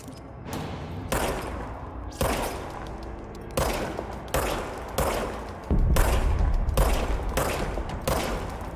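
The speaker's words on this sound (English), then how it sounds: "Now I have a gun. Okay, now I'm killing zombies." Loud gunshots shooting zombies in the video game Control, about a dozen sharp blasts fired in irregular single shots and short clusters, each with a booming tail, ending in a heavier rapid volley.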